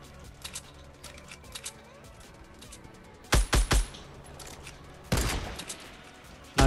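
Rapid bursts of gunfire in a video game tournament match, two loud volleys rising over quieter game sounds, with voice chatter in between.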